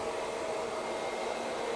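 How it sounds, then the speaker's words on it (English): A hair dryer blows air at the roots of a tilted head of hair, a steady close-up whooshing roar with a faint motor hum and no talking. "tip the head to one side so your hair's leaning in to the dryer"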